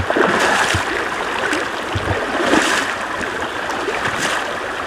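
A fast-flowing California creek rushing around a person's legs while they wade, a steady close wash of churning water with small surges and splashes, no talking.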